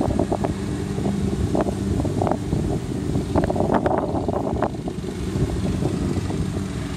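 Wind blowing outdoors on the first day of fall, a steady low rushing rumble buffeting the microphone throughout, with scattered faint rustles and clicks above it.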